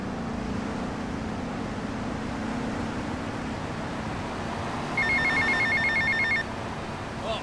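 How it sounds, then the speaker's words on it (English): A telephone in GTA Vice City rings in a short run of rapid electronic trills near the end, over a low steady background hum. "Tommy, I had Sonny on the phone, okay?"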